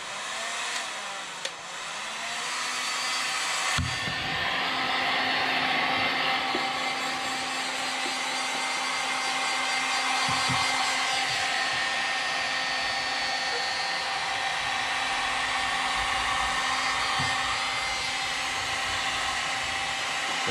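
A heat blower roars steadily and loudly close by, drying fresh paint on a hobby RC car body (an Arrma Limitless GT shell); the airflow switches on after a few seconds and runs continuously with a faint whine, no voices.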